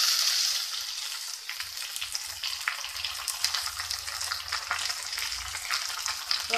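Chopped tomatoes frying with sautéed onions for chicken biryani, a steady crackling sizzle that stays close and even throughout with faint stirring and no voices.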